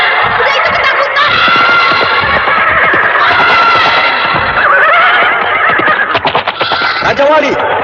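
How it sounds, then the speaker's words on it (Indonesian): Shrill neighing of a panicked horse rings out in a radio drama, repeated whinnies layered over hoofbeats and overlapping dialogue, loud and close with slight echo. "Kuda itu ketakutan."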